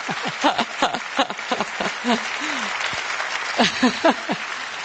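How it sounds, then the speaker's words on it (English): A single audience member claps at a tech-week event about AI innovation in Europe, producing sparse, uneven claps over faint room murmur and voices. "I think this is worth an applaud."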